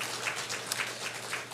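Brief burst of congregational applause during a Sunday church service, a steady, moderately loud patter of many hands clapping in a room.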